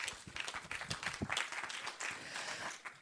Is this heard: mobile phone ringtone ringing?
no